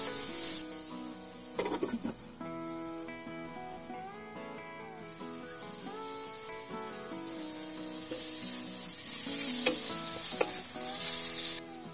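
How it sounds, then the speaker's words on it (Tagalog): Chicken sautés in a pan for a hot soup, a continuous hissing sizzle running beneath louder background music for the whole stretch. "ilagay na natin yung ating chicken. Igisa lang natin yan for at least 2 minutes."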